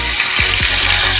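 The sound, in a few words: green chillies sizzling in hot oil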